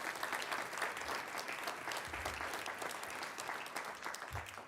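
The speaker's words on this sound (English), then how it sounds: "So let's give the lodge a round of applause." Sustained applause from a town board meeting audience honoring the Bramiti Lodge, a steady dense wash of many hands clapping at moderate distance, with a few low thumps underneath.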